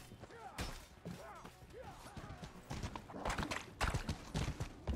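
Horse hooves clip-clop in the medieval combat game Mordhau, irregular thuds amid clashing melee noise and shouting, growing busier and louder toward the end.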